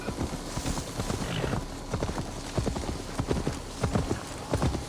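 Horse hooves clip-clopping at a brisk gallop in the Assassin's Creed Valhalla video game, a steady rhythmic run of close, sharp hoofbeats lasting throughout, with no talking.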